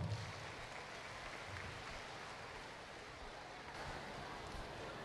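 Audience applause at an awards finale ceremony in a large hall, a steady broadband wash of many clapping hands held evenly for several seconds, fairly distant and without a clear break.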